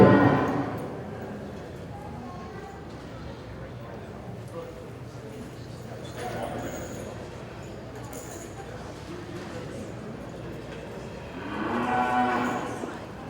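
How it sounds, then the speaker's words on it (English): A loose heifer at a livestock show, the Western Spring National Show, lets out a few moos from some distance, with bursts near the start and end, over crowd noise and public-address talk. "We have a heifer that has got loose out here."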